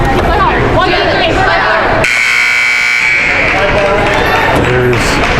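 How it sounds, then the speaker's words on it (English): Loud sustained buzzer sounds in a gym during a girls varsity high school basketball game, cutting in abruptly over crowd and commentary chatter and holding about a second before the noisy arena talk resumes. "There's the buzzer."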